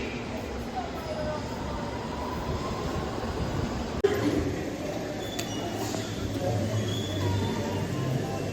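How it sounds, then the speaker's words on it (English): A London Underground District line train rumbles through close by with a steady, loud rolling roar and clatter, then a sharp clunk partway through, while people talk faintly nearby. "District line train."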